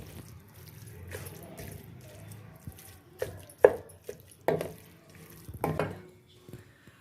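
Saag greens being stirred and mixed in a pan alongside potatoes, giving soft wet squishing and scraping with a few sharper clinks of the utensil against the pan, close and fairly quiet.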